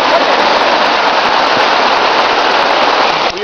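Dense, loud, continuous patter of heavy rain drumming on a large tent during a storm, a steady wash of noise with no voices.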